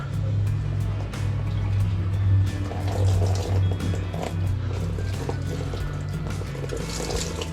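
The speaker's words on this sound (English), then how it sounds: "Let's get the hose turned on." Cold well water from a garden hose fills a RELXTIME 4-6 person inflatable hot tub with a continuous, fairly loud rushing gush that holds steady throughout.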